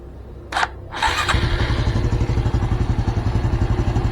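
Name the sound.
Honda Blade 125 Fi motorcycle engine starting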